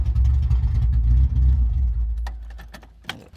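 Close, steady low rumble of a Honda H2B engine idling in a swapped EK Civic coupe, with a few light clicks near the end.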